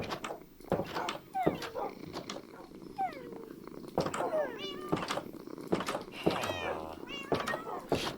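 Several cats meow repeatedly in Minecraft, their short rising and falling cries scattered across a steady background with a few sharp clicks, fairly close and clear.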